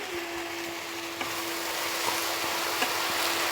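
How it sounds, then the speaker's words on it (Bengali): Steady, fairly quiet hiss of slit green chillies hitting hot oil in a pan, continuous broadband frying with a few faint clicks of stirring, no talking. "আর কাঁচা লঙ্কাটা আমি দিয়ে দিচ্ছি 5-6টা চেরা কাঁচা লঙ্কা"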